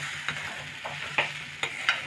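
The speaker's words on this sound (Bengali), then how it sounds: "এবার কিন্তু আমি এটা নাড়তে থাকবো, ঘন ঘন নাড়তে থাকবো" Pea filling for matar kachori stirred in a pan over medium gas, a spoon scraping in four or five distinct strokes over a soft steady sizzle, close and fairly quiet.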